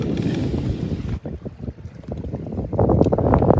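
Gusty wind buffets a fishing boat on Reelfoot Lake, a steady broadband rush roaring loudly at first, dropping abruptly, then gusting back up in uneven bursts.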